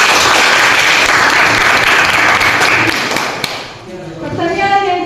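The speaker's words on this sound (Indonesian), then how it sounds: "Dan sekarang tepuk tangan buat" Grade seven students at a junior high school in Huruna clap together in their classroom, a loud, dense burst of applause that stops abruptly, after which voices speak.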